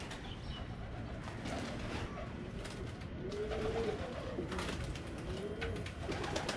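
Caged pet birds kept at a wealthy household's home in Saudi Arabia, cooing softly in several dove-like calls over a steady background hiss, fairly distant and faint, with no talking.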